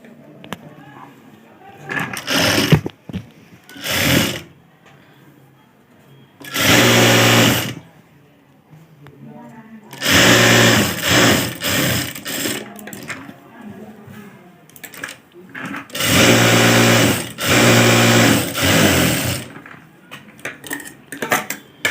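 A sewing machine stitches along the folded fabric edge of a blouse button strip, running in several loud, close bursts of rapid mechanical whirring separated by pauses.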